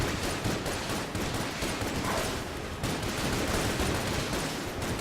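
Dense, continuous gunfire fills the space in Enter the Gungeon, with rapid overlapping shots and bullet bursts going off loud and close throughout, and no quiet gaps.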